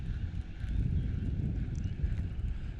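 Wind gusts outdoors during early pre-spawn bass fishing produce a steady low rumble and buffeting against the microphone, continuous and fairly loud with no talking.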